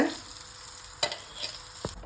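Ginger garlic paste frying on low flame in a pan, stirred with a spoon; a steady soft sizzle runs throughout with a few brief scraping clicks of the spoon against the pan, close and fairly quiet.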